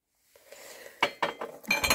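Porcelain teapot and coffee pot from an antique porcelain set are handled, making a soft scrape followed by several bright, close clinks in quick succession.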